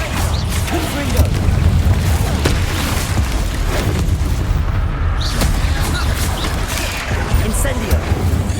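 Confringo blast spell in Hogwarts Legacy, a loud booming explosion with crashing debris over dense ongoing game noise, heavy and sustained rather than a single clean hit.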